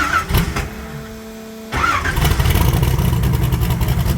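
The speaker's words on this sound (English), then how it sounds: "Start right up, we'll go." After a short quiet pause, the engine of a 1980 Pontiac Trans Am cranks, catches and settles into a loud, steady running rumble close by.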